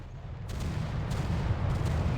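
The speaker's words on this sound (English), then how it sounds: "Those are that's gunfire. I think coastal guns." Continuous rumbling coastal gunfire with dense low booms and crackle, steady and moderately loud, in a naval battle in the video game Victory at Sea Pacific.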